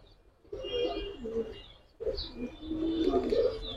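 Grizzle pigeons coo in soft, murmuring bursts, with a few faint chirps, close by in a loft or coop. Two swelling phrases follow a quiet start, the second louder and fuller.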